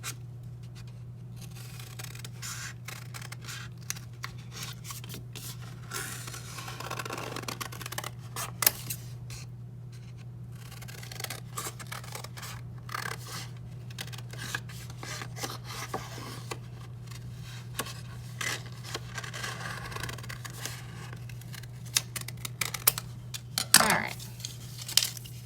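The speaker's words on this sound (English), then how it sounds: "When I cut with my scissors, and there's lots of curves and angles, I'm using this hand to turn my paper." Scissors cut paper as it is turned around curves and angles while making a mask, producing many soft snips and crinkles at an uneven pace over a steady low electrical hum, without any talking.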